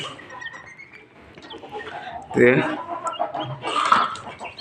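Quails kept as a flock of eight hens and cocks call out loudly and repeatedly in a farm setting, shrill bird cries rising in bursts over background noise and a voice talking.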